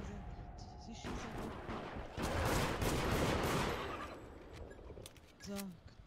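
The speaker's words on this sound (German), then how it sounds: "Sie schießen." Gunfire in the multiplayer horror game Deceit, a dense burst of shots and crackling fire peaking mid-clip then easing, with a short sharper report near the end; no one speaks.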